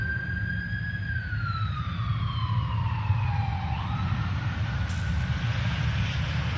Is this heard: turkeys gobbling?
no